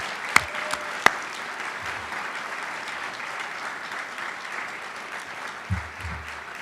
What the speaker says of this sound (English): So I would like to lead a big round of applause for the staff of Schreyer Honors College